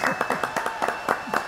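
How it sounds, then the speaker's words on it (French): Audience applause and clapping at a French live show, a steady patter of hand claps at moderate level, dense and continuous for the short stretch. "applaudissements pour le squatteur professionnel."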